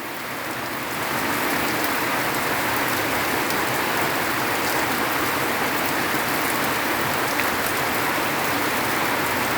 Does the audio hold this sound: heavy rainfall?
yes